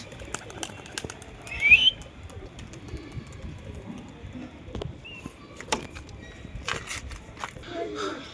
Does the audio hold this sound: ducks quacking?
no